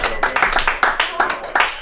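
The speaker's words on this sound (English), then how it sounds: "Phil Burns, everybody, give him a round of applause" A small comedy club audience claps for comedian Phil Burns, a quick run of distinct, fairly close handclaps with a voice over them.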